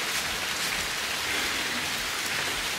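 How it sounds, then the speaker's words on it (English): Steady rain pours down outdoors during a beach outing, a dense close hiss of drops hitting surfaces with no let-up and no voices. "but it's like raining right now,"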